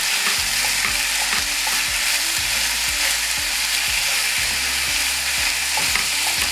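Ground beef fries and sizzles in a pan for an Italian lasagna, with steady loud hissing and repeated scraping knocks as a utensil breaks the meat apart while stirring.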